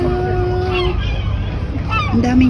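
Large birds at an open market in Deauville, France give loud, nasal honks close by, with a few calls at the start and another burst near the end over a steady outdoor murmur.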